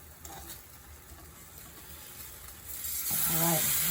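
Sliced Spam fries in a pan, giving a steady low sizzle that grows louder and brighter near the end, while a voice talks briefly over the cooking.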